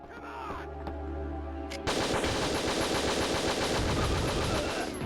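Rapid SMG gunfire in the video game Winback: Covert Operations, a dense, loud stream of shots that kicks in about two seconds in and keeps going, following a steadier, quieter stretch of game noise.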